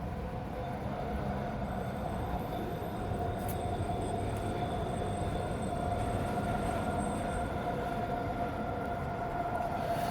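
A train passes beside a Walmart with a steady, continuous rumble and rolling rail noise at moderate distance and low volume. A faint high squeal rises above it at times.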